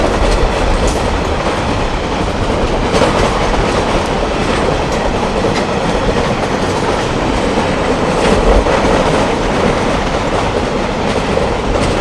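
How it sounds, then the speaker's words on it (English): An empty coal train hauled by DL-class diesel locomotives passes at Mercer, New Zealand; loud, continuous rumbling of wagons with rhythmic clickety-clack of wheels over rail joints throughout, close by. "catch the empty coal train 141 at Mercer, which was hauled by DLs"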